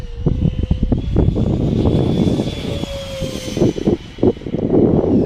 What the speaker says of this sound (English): we're up, and this thing is flying.